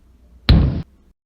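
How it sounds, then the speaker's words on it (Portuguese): A single short, hard thud of knocking on wood or a door, one dry impact lasting a fraction of a second, close and loud against near silence. "Batendo em madeira ou em uma porta."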